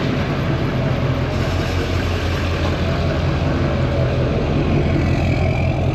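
An LML Duramax diesel pickup engine fitted with a delete kit runs steadily up close, a loud constant low rumble with a gritty mechanical drone and no talking.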